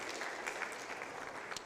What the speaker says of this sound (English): you can give her a clap as well